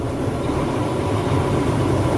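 A truck engine runs at high revs toward governor cutout during a CDL pre-trip inspection, a steady loud low drone throughout.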